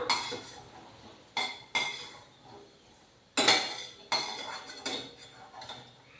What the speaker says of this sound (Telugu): వీటిని ఈ పల్లీలు తీసుకున్న గిన్నెలోకే తీసేసుకుందాం